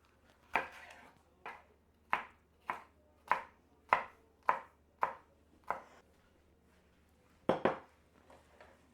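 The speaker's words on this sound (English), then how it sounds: "And now I'll chop up my peppers." Knife chopping red and orange bell peppers on a cutting board, roughly a dozen crisp, evenly spaced close-up chops, a brief pause, then a quick double chop near the end, with no talking.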